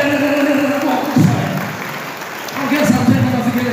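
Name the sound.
congregation clapping in church service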